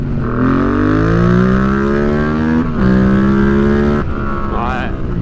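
Rebuilt, previously crashed Yamaha MT-07 motorcycle engine pulls hard through the gears: loud, close rising engine notes broken by brief dips at each shift, with a voice briefly heard over it.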